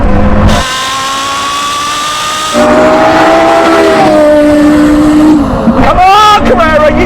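A Porsche Carrera GT and a Lexus LFA in a drag race, engines revving high with rising pitch that drops at each gear shift, loud and close, with talk over the top.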